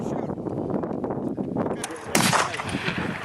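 F Class target rifles fire at an outdoor range during a barrel-fouling blow-off period: a sharp, loud report rings out past the midpoint after a fainter earlier shot, over a murmur of background voices.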